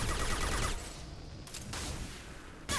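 Rapid SMG bursts from Mass Effect 2 gameplay chatter in quick volleys, fairly quiet, breaking off briefly and then returning in short sharp bursts.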